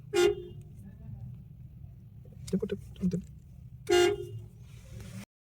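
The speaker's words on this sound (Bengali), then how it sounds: "একটু হর্ন দাও তো হর্ন দাও" A car horn honks several times, first one short toot, then two quick beeps, then another longer toot, loud and close against quiet road background with faint voices.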